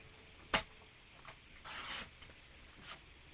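Scissors or a cutter slicing through crafting material at the 3-inch mark, a sharp snip followed by a longer rasping cut, brief and close in an otherwise quiet room.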